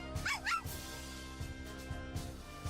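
A dog in the visual novel Fureraba gives two quick high yips and whimpers up close, followed by softer repeated low huffs over a steady background music drone.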